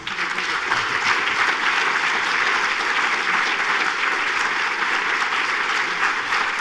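A lecture audience applauds warmly and at length, a dense, even wash of clapping that holds steady throughout with no voices on top.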